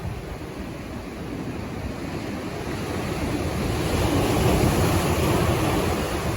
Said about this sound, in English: So a little wave coming in now